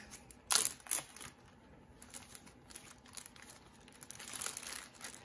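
A plastic Ziploc bag crinkles as folded paper holding seeds is slipped inside, with two sharp close rustles early on and softer handling noise after.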